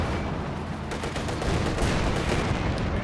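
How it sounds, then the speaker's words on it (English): Katyusha rocket barrage in Company of Heroes 2, a rumbling series of explosive bursts and crackling impacts layered over dense battle noise at moderate volume, continuing throughout without pause. "Katyusha barrage"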